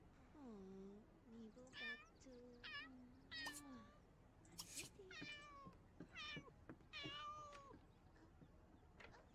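A cat in the life-simulation game The Sims 2 meows repeatedly, a run of short, close, fairly clear meows and mews spread over several seconds against quiet background.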